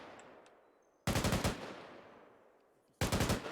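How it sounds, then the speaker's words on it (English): Automatic gunfire in the military game Arma 3, two short loud bursts of rapid shots separated by about two seconds, each trailing off in a long echoing decay. "They're firing from the radar station."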